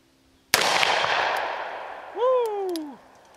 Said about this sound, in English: 357 Magnum. See what I can do with this. Check out the difference in recoil now.